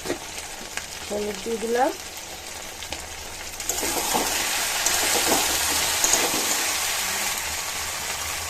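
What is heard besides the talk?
frying pumpkin with spices, tempering in hot oil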